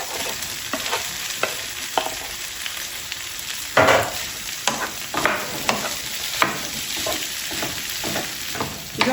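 Potatoes fry in a pan with garlic paste, giving a steady, close sizzle broken by repeated scraping and stirring strokes of a spoon throughout, with no talking.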